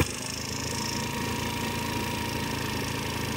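A cheap scooter engine idles with a newly installed carburetor, the idle running a little low. It makes a steady, continuous, even hum close by, with no other sounds.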